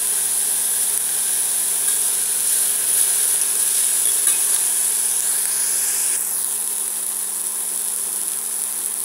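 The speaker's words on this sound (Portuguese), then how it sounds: "Vou acrescentar a cebola e vamos deixar ela murchar" Chopped onion sautéing in a pan for a simple Sunday pasta sauce, a steady soft sizzle and hiss that runs evenly throughout with occasional faint stirring scrapes, no talking.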